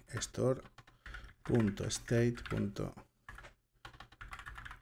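Quick keystrokes on a computer keyboard, clicking in short bursts beneath someone talking nearby.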